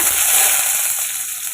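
Handful of small shallots dropped into hot oil already crackling with mustard seeds and fenugreek, a steady, close, loud sizzle with fine spattering throughout, no voices.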